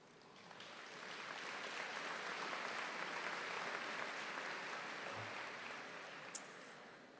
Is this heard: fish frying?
no